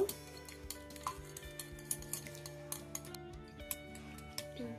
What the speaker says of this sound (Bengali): ডিমটাকে একটু ফেটিয়ে নেব।